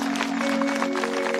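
A stage audience at a Chhattisgarhi Navdha Ramayan performance claps together on request, a brief, steady patter of many hands over a sustained tonal drone.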